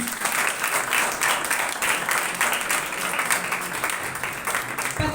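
Loud, sustained applause from a congregation during a Hindi-language Christian church service, steady clapping filling the whole stretch without a break.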